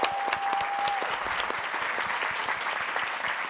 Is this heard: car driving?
no